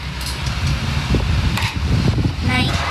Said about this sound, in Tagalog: Okay, yung dalawang electric fan.